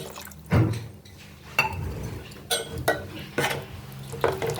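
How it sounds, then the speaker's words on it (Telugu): Spoon stirring tomato gravy with added water in a pan while cooking kadai paneer, with several sharp metallic knocks and scrapes against the pan over a soft wet bubbling background. "ఇలా టమాటా అంతా మెత్తగా ఉడికాక 100 ml నీళ్ళు పోసుకొని కలుపుకోవాలి."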